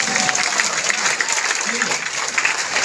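An audience claps steadily and loudly, a dense wash of applause that runs unbroken from start to finish, with voices faintly mixed in.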